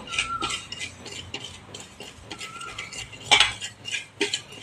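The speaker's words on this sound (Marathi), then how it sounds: "पहिल्यांदा खसखस जरा गरम करून घेऊया" Poppy seeds warming in a pan while being stirred with a metal spoon, soft scraping and clinking taps in an irregular rhythm, close and fairly quiet.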